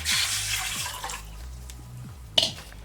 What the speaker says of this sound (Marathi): हे 1 लिटर पाणी याच्यामध्ये आपण आता उकळायला ओतायचं